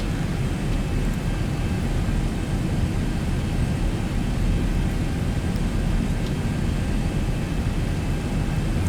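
A steady, unbroken roar of Boeing 737 jet engines in the X-Plane 11 flight simulator with the Zibo mod and AudiobirdXP sounds, a dense cabin drone that stays even throughout with no speech.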